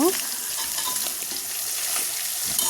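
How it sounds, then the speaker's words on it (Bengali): Fish fries in a wok with a dense, constant sizzle throughout, close and fairly loud, with faint stirring sounds under the crackle. "এভাবে ভালো করে মাছগুলো ভেজে নেব"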